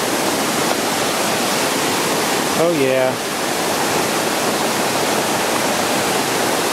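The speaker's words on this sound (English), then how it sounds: "Right here, by the river." A river rushes steadily beside a campsite among huge boulders at Gorges State Park, North Carolina, its loud, constant roar filling the scene, with a voice briefly speaking over it midway.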